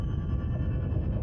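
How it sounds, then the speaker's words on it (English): Underwater recording of an earthquake: a brief, continuous low rumble with a dull, muffled roar and no distinct onsets, steady throughout. "here's an example of an earthquake, and it's all low-frequency energy."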